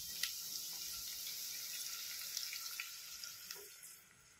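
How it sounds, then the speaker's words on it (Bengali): Water poured into a pan of frying tomatoes, giving a steady hissing sizzle with a light running-water wash and a few small splashes and drips, close and moderately quiet. "এটা ফ্রাই হয়ে গেছে, এবার এটার মধ্যে দেওয়া হচ্ছে জল"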